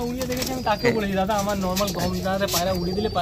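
Andhra pigeons coo in a home loft, a close, repeated warbling coo rising and falling in steady phrases, with faint flutters and other birds in the background.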